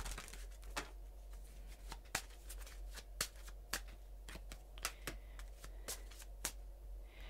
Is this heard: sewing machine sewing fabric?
no